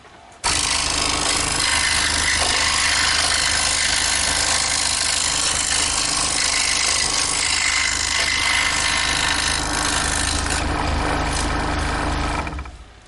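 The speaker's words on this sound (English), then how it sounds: "you can see how quickly that sharp blade is cutting through the material" A scroll saw blade cuts steadily through two stacked layers of 1/4 inch material, giving a loud, continuous buzzing rasp that runs unbroken for about twelve seconds before stopping, with no talking.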